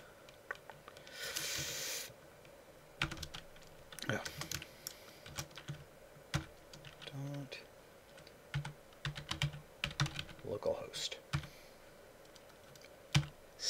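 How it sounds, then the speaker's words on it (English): A MySQL grant command is typed on a computer keyboard in irregular bursts of close key clicks with pauses, accompanied by faint breathing and a few quiet spoken words. "now we go ahead and retype that username"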